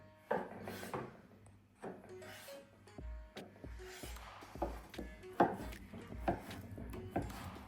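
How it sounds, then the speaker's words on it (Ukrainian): A knife cubes avocado on a cutting board, uneven knocks and scraping strokes close by, with occasional clatter between cuts. "І авокадо теж наріжемо кубиком."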